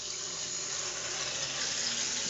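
Water pours from a newly installed faucet on an above-mount sink, a steady, even hiss that holds throughout, moderately loud and close, with no talking.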